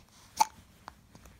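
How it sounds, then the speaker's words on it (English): A baby hiccups once sharply and loudly near the start, then a smaller hiccup follows about half a second later, with quiet stillness around them. "Oh, the hiccups are coming."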